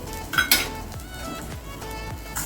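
Rock salt dry-roasting in a metal pan for idli podi, giving a faint granular sizzle under repeated scraping and clinking of a spoon against the pan, with a few sharper metallic knocks; no one speaks.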